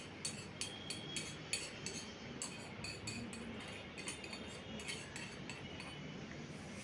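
Green chickpea leaves going into a hot pan and being stirred, with a steady sizzle and light rhythmic clinks of a utensil against the pan, close and fairly quiet, no talking.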